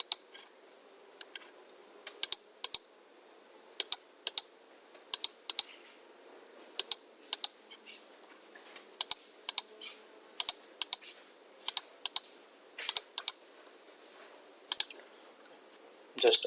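Keys clack on a computer keyboard in short, separate bursts of a few taps each, spaced out across the stretch, close and crisp against a quiet room, while a CAD offset command is entered for a waste-pipe shop drawing.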